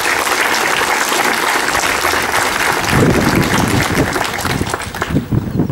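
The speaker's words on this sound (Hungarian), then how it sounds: "Sportolóinknak is jár a taps" Audience applause for a school's athletes at a primary school graduation ceremony in Zalaegerszeg, a loud sustained wash of many clapping hands that swells and deepens toward the end, with no talk over it.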